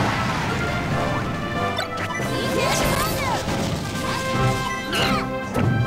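Super Smash Bros. gameplay in a tournament match, with dense crashing hit impacts and sweeping whooshes of a down smash attack, loud and busy throughout amid crowd or game noise.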